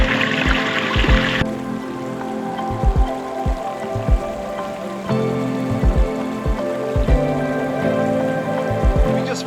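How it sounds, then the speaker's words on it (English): Water runs in a pondless backyard garden waterfall in Clifton Park, New York, giving a continuous close splashing wash broken by repeated soft thumps and drips, with no talking. "It was a pondless waterfall for Grow For Me Gardening in Clifton Park, New York"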